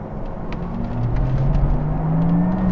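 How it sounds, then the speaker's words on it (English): A Porsche Taycan's artificial Sport Plus sound: a smooth synthetic whine rises steadily in pitch over a low engine-like rumble, growing slightly louder as the car accelerates. "when we whack it up into Sport Plus, you'll hear the artificial spaceship noise appear"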